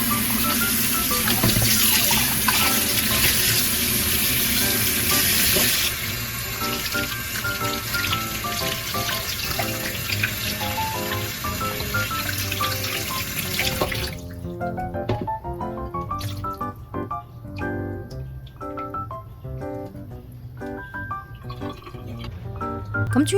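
Tap water runs steadily into a sink while pork spine bones are rinsed for soup, a loud continuous gush at first that drops to a softer stream with clinks and handling noises close by.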